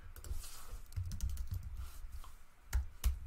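A web address typed on a computer keyboard, quick close keystrokes clicking in an uneven run with a couple of louder taps near the end.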